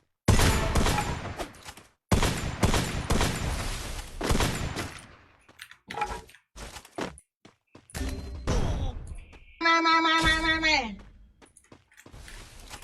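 Gunfire from the video game Free Fire crackles in rapid bursts and single shots, loud and close, followed by a short tonal in-game effect, while a player talks over the action.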